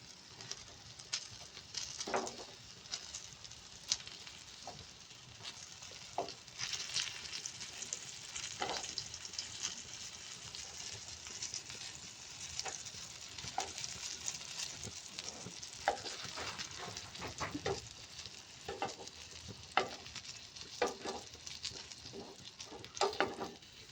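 Home-grown eggplant frying in a pan for begun bhaji, a faint steady sizzle and crackle with scattered soft stirring taps over about twenty seconds, with a hint of birds in the background.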